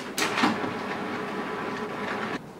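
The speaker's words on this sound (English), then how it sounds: "You will hear the printer will try to print." An HP printer tries to print during a reset, giving off a close, steady mechanical whirring and rattling with a brief thump near the start. It runs for about two seconds before cutting off abruptly.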